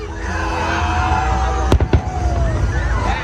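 Fireworks at the WEBN show in Cincinnati boom in a quick cluster of three sharp, loud bursts against a steady background of outdoor crowd noise.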